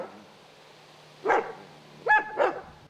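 A livestock guardian dog on a farm gives a single bark, then two more close together, fairly near and distinct against quiet surroundings.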